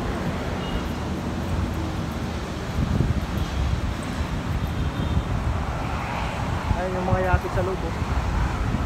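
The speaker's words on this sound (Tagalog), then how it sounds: "Maingay yung mga tunog ng sasakyan kasi Ross Boulevard ito eh." Steady traffic rumble and gusting wind buffet the microphone along Roxas Boulevard in Manila near a pier with yachts, while someone talks over the noise throughout.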